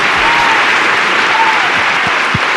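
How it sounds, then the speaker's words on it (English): Steady applause from a studio audience greeting the hosts of a dating talk show, a dense continuous wash of clapping at full loudness throughout, with no voices standing out. "Applause, applause to all our viewers right now"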